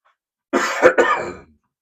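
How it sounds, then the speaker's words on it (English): A single close, loud fit of coughing, a couple of harsh bursts running together, in an otherwise quiet room. "I'm going to cough again."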